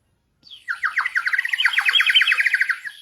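A water bird whistle overfilled with too much water gurgles in a dense, wet, bubbly warble, sputtering, continuous for a few seconds.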